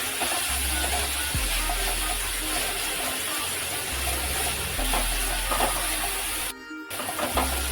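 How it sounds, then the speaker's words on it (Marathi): Onion sautéing in a pan for Maharashtrian zunka, a steady, close hiss and sizzle lasting throughout, with a low hum under it and a brief dip near the end, with no talking. "हा कांदा आपला आपल्याला व्यवस्थित असा परतून घ्यायचा आहे"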